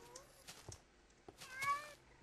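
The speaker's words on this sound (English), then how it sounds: "there's a kitty cat" Minecraft cat meowing in short, high mews, a few separate calls spaced out, then a longer drawn-out meow toward the end, moderately close over quiet game ambience.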